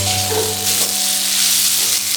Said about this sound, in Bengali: এখন আমি দিয়ে দেব ভেজে রাখা উচ্ছে আলু। এবার মশলার সাথে ভালো করে মিক্স করে নেব।